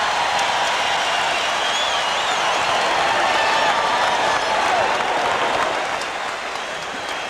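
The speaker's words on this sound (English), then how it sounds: "Most of those people up cheering can't quite believe what they saw Rambis do" A basketball arena crowd at a Los Angeles Lakers versus Chicago Bulls game roars and applauds after a spectacular play, a dense, sustained wall of cheering and clapping that tapers off slightly at the end.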